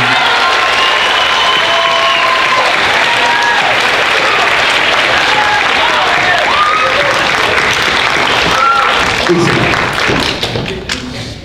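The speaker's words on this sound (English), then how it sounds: "Round of applause for all of our region." Loud, sustained applause from a concert audience at an eighth-grade symphonic band spring concert, dense clapping with some cheering that holds for several seconds before starting to thin out.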